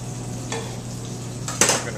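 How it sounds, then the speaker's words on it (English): Ahi tuna sears lightly in a hot pan in a restaurant kitchen, giving a steady sizzle under a low hum, broken by a couple of brief scraping stirs or pan clinks. "Now we only want to sear our tuna lightly on each side"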